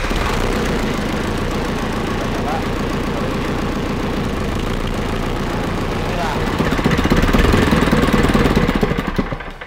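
The engine of a rice grain processing machine on an organic farm runs loud and close with a steady, chugging low throb, then grows heavier and rougher near the end as it revs up.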